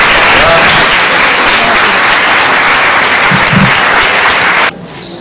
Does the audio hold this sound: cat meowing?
no